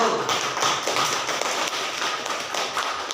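A classroom group applauds a presenting group during a teaching assessment session at Universitas Negeri Malang, steady dense clapping from many people throughout, loud and close, with no voices over it.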